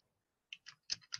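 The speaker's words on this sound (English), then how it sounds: "Somebody's typing away." Someone types on a computer keyboard picked up by an open microphone during an online lecture, a handful of quick, faint clicks in a short irregular burst against near silence.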